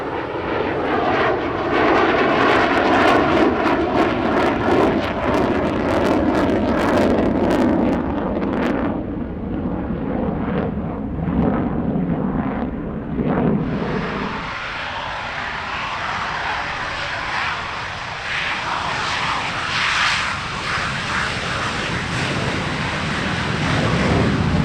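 A Saab Viggen jet roars past at a warbird airshow, a loud continuous engine noise that shifts in pitch partway through as the aircraft passes, with wind buffeting the microphone.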